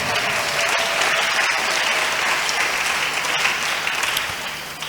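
A church congregation claps together in a sustained burst of applause, dense and even throughout before easing slightly at the end, with a faint voice underneath.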